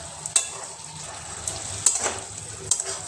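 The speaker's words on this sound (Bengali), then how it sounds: "চিংড়ি মাছগুলো আলু মশলা সব কিছুর সাথে ভালো করে মিশিয়ে নেব" Prawns and potatoes with spices stirred in a pan, soft frying hiss under sharp intermittent clinks of a spatula against the pan, close by.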